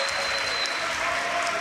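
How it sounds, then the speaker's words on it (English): A crowd cheering and applauding at a Yu-Gi-Oh YCS Milan 2018 card game final, a dense and continuous wash of clapping that fills the space evenly. "You can hear the crowd probably going crazy."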